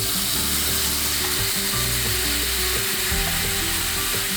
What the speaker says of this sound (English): So you start by sauteing your apples.